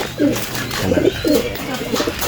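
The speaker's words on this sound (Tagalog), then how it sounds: "Ayan, mga kalapatids." Racing pigeons in a breeder's loft cooing close by, several soft throaty coos repeating in rhythmic bursts over faint background murmur.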